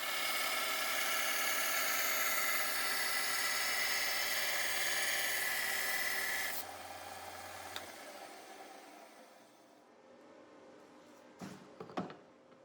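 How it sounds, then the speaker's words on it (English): A knife blade, worked across the belly and tip, is ground on a running belt grinder: a loud, steady, high-pitched whine that winds down after a few seconds, then fades to a quieter hum with a few faint knocks near the end. "carefully sweeping the front belly and the tip of the blade across the belt to ensure the edge geometry remains uniform all the way to the point"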